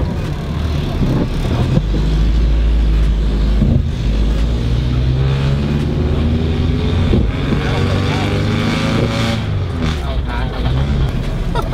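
A car with a loud modified exhaust drives with its engine droning and rumbling close by throughout, while people talk over it.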